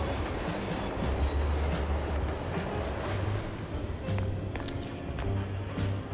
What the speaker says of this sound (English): Ah, subway station.